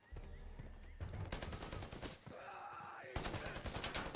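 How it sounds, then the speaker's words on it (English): Gunfire in the video game Predator: Hunting Grounds: rapid automatic bursts crackle in dense runs, pause briefly, then resume loud and sustained with a tonal whine between volleys; no speech. "who's shooting at me?"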